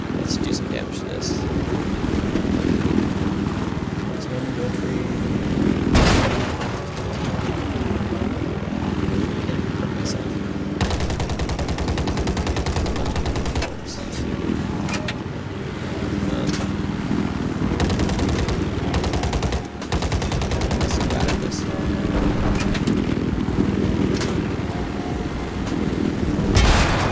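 In a Battlefield 4 match, a rocket launch and several heavy explosions punch through a constant roar of aircraft engines and scattered gunfire. Someone talks over the noise throughout.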